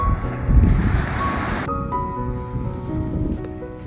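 Sea waves washing onto the shore at Shek Pai Wan on Lamma Island, a steady broad rushing surge mixed with wind noise, with no voices.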